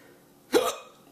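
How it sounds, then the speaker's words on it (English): A single sharp hiccup, loud and close, from someone who has just eaten a Trinidad Scorpion Butch T chili pepper, with quiet surroundings before and after. "Pretty hard hiccups."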